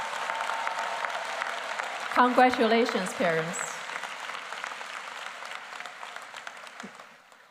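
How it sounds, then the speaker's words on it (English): Graduation audience at the Edison High School commencement bursts into steady applause for the parents, a dense clapping that runs through the whole stretch while a speaker's voice briefly cuts in over it. "let's give our parents a big round of applause"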